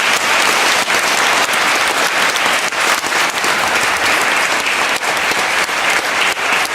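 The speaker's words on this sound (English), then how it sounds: "give them a round of applause" A large audience at a stage performance about Nano Nagle breaks into loud, sustained applause. Dense, even clapping fills the whole stretch at close range without a pause, and no voice is heard over it.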